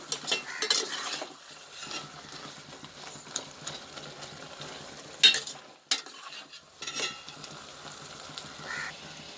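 Mint leaves and tomato sauté in a pan for chutney, a soft low sizzle punctuated by intermittent spatula scrapes and clinks against the metal, close and uneven.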